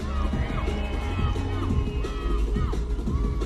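Spectators at a street car event whoop, scream and cheer loudly for a driver's white BMW, a sustained close roar full of high rising shouts and whistles.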